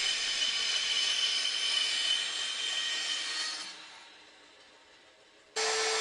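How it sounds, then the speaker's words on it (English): A bandsaw cuts the rounded corners off a wooden children's tabletop, a steady close whirring hiss that tapers away as the cut finishes, then the motor whine resumes abruptly near the end; no talking. "which I then cut off with a bandsaw."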